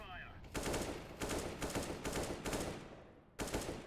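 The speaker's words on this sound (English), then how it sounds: "If you're double tapping like that," AK rifle fire in a CS:GO match on Mirage, loud, close bursts of double-tap shots repeating in a steady rhythm across the clip, with brief pauses between pairs.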